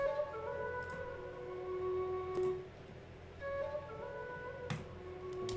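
Ethnic flute sample with EQ trimming the highs and Valhalla VintageVerb reverb: soft, airy sustained notes in short repeating phrases, with faint ticking clicks scattered through.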